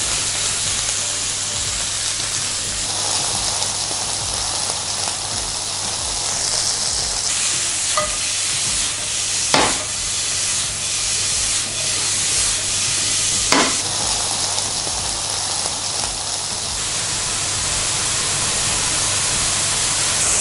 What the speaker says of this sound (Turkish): Etleri şöyle bir kızartalım.